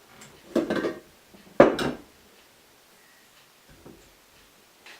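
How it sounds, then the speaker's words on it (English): Scraping down a mixing bowl while baking gingersnap cookies: two short clattering scrapes close by, then quiet with faint light taps. "But first I'm going to scrape everything down because that is important."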